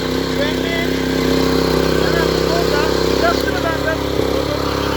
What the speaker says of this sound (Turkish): Evet motor çalışıyor ama dişliler duruyor değil mi?